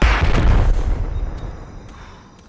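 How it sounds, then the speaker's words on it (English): A frag grenade goes off in a multiplayer shooter game, a loud close burst with broad rumbling low end that decays and fades over a couple of seconds, with no talk over it. "Tossing a frag!"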